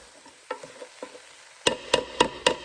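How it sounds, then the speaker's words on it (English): Beef stew with flour is stirred in a Ninja Speedi cooker: a few soft scrapes, then four sharp, evenly spaced spoon knocks against the pot, close and alone. "I'm going to stir it around just for a minute so the flour will be gone."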